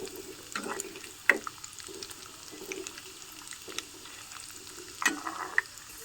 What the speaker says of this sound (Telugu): జీడిపప్పు కొంచెం గోల్డ్ కలర్లో వచ్చేంత వరకు వేయించుకుందాము.